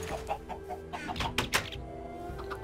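Chickens in the Minecraft video game cluck in short, choppy bursts close by, a few sharper squawks standing out midway, over a faint steady game background hum.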